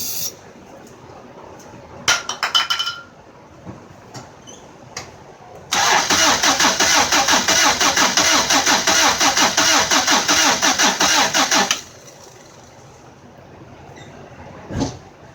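A Honda CRX with a B18 engine cranks in short bursts, then cranks steadily for several seconds with a fast rhythmic chug, loud and close, before falling quiet.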